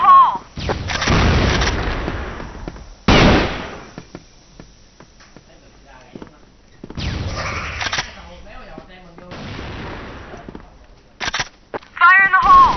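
Grenade blasts and gunfire ring out in a first-person shooter match, with loud, sharp booming bursts spread through the stretch as players talk over the action.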